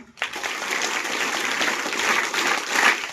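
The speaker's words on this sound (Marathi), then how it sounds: "जोरदार टाळ्या वाजवा" An audience at a live stage event bursts into loud, sustained applause, dense clapping that starts abruptly and carries on steadily to the end.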